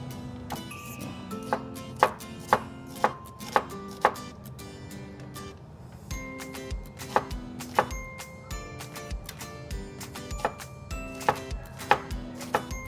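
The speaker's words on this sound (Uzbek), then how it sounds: "Piyoz alohida to'g'raymiz." Steady knife chopping of onions on a board in a home kitchen, a regular run of sharp close thunks with brief pauses, loud and clear with no talk over it.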